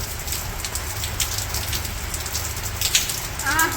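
Steady rain pours onto surfaces on a village morning, a close, even hiss of drops with scattered sharper splatters throughout.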